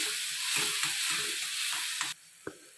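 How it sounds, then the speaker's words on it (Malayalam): Tomato puree sautés in a pan for peanut butter masala, a dense frying hiss broken by spoon stirs and knocks, ending with a sudden drop and a single clack. "അതും കൂടെ ഒഴിച്ചിട്ട് അതിൻ്റെ പച്ച മണം മാറുന്ന വരെ നന്നായിട്ടൊന്ന് വഴറ്റി കൊടുക്കണം."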